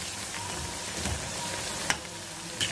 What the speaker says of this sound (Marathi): आता असंही 2 मिनिट आधी छान तळून घेऊया